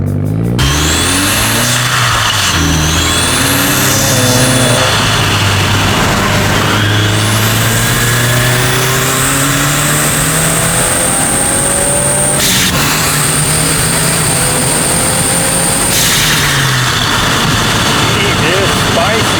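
A 2022 Subaru WRX fitted with a Perrin front-mount intercooler accelerates hard on a street, its engine note climbing through gears with loud rising sweeps and brief shift breaks, continuous and close throughout.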